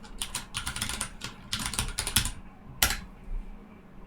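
A computer keyboard clatters as a C# script name is typed in the Unity editor: a quick run of close keystrokes in bursts, a short pause, then a few final taps.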